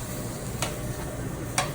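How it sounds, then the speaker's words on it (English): Food being stirred around in a sizzling pan: a soft steady fry hiss with two brief scraping strokes of the utensil across the pan, close and fairly quiet. "I'm just kind of stirring it around."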